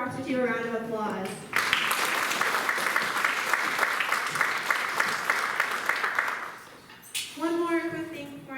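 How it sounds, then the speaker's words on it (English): Applause from the audience at a 2019 Triton FFA awards banquet, a dense burst of clapping lasting about five seconds, with a speaker's voice before and after it. "Let's give the chapter officer a round of applause."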